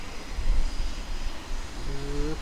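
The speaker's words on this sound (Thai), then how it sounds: "อุณหภูมิเครื่องขึ้นรอบเครื่องมันจะต้องขึ้นนะครับ" A Mirage fighter jet engine spools up during startup in the DCS flight simulator, a steady roaring whine with a rising tone emerging near the end, fairly loud and without speech.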